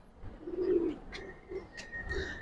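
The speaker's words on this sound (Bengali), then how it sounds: "এটা একটা বাঘা কবুতর, পুরান জাতের" Old-breed Bagha pigeon cooing, a low throaty coo followed by a couple of shorter murmurs, faint and close, with some light chirps from other birds nearby.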